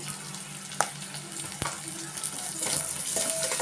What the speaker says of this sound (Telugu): ఇవి కొంచెం బాగా వేగనివ్వాలండి. ఉల్లిగడ్డ కొంచెం వేగింది.